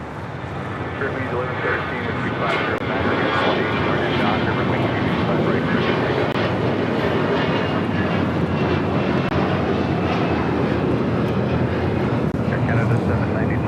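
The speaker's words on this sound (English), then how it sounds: "Canada 792 taking off to Toronto on an A321." Air Canada A321 bound for Toronto taking off at LAX, a broad steady engine roar holding loud throughout, with people chatting over it.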